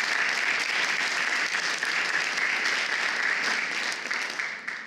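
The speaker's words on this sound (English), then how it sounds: "Round of applause for our amazing sponsors." Audience applause at a student fashion show, a dense, even wash of many hands clapping at a moderate distance, holding steady before starting to taper at the end.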